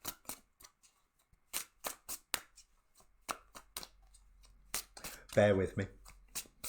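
Tarot cards are shuffled by hand in short, crisp riffling bursts separated by pauses, close and fairly quiet, with a person speaking briefly near the end.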